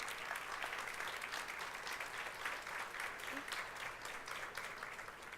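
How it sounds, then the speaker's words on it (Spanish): Sustained applause from a conference audience, steady and dense clapping filling the room throughout, with no speech over it. "Les pido un fuerte aplauso para Lucía Delgado."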